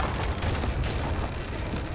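Heavy, booming cannon blasts rumble continuously in a Sea of Thieves ship battle, loud and low with no clear gaps between the explosions.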